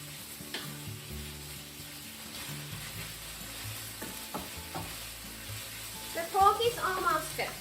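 Pork sizzles quietly in a frying pan as it is stirred, with soft scraping and crackling that gets a little livelier toward the end.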